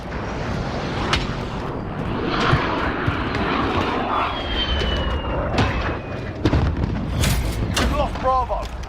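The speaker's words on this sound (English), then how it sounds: "Friendly VTOL." A VTOL aircraft roars overhead during a Call of Duty: Modern Warfare match, a loud engine drone mixed with distant explosions and gunfire, while voices talk over it.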